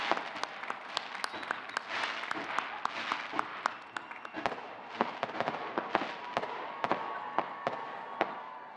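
Fireworks burst outdoors at a Bridgewater State University graduate commencement ceremony, a rapid string of sharp cracks and pops with a crowd cheering and applauding underneath.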